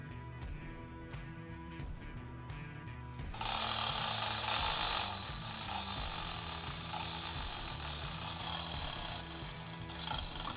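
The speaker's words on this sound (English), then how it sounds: "We'll get the hoist over here and we'll start lifting her up." A mechanical hoist lifts a 2017 Mercury Pro XS 250 outboard motor with a clicking, ratcheting action. After a few separate clicks it settles into a continuous whirring mechanical grind, close by and with no talk.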